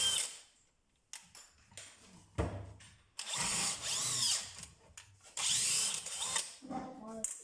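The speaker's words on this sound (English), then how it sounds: "you can see that the drill speed is slower" A DeWalt DCD996N 18V cordless drill whirs in several short bursts at different speed settings, spinning up and winding down with pauses and clicks between runs.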